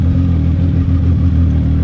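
Engine of a Kawasaki 675NK adventure motorcycle on an off-road ride, running loud and close as a steady, unbroken rumble with a mild rise in revs and no voices over it.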